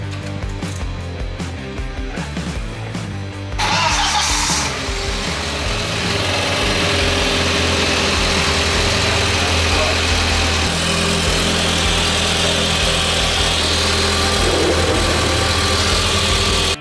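An Audi 1.8T car engine cranks briefly, then fires into a loud, steady idle with a constant low rumble that carries on close by until the end.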